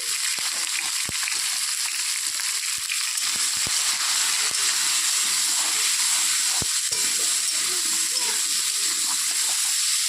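Pointed gourd (potol) frying in white oil with turmeric and salt in a pan, a continuous loud crackling sizzle with scattered sharp pops throughout, close and steady with no talking.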